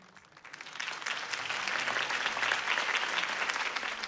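Crowd applause in a Batman video game cutscene, rising quickly from a quiet start into sustained, dense clapping that fills the whole stretch without letting up.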